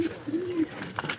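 Pigeons settled in a straw nest give soft, low cooing calls, one short coo then a longer rolling coo, close and fairly quiet.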